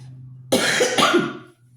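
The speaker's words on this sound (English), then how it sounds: "I am so sick of this cough." A single harsh, rattling cough from a person with a cold breaks out near the listener, lasting about a second over a faint background hum.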